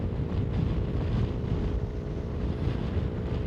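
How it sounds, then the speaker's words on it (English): Strong wind buffets the microphone outdoors on a wet day, making a constant dense low roar and rumble that never lets up for several seconds. No voices are heard. "It's bloody windy."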